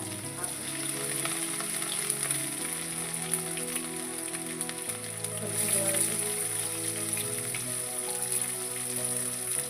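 Green chillies, curry leaves and crushed ginger and garlic sizzle steadily in a hot pan, a continuous close frying crackle under faint tonal background sound, with no talk.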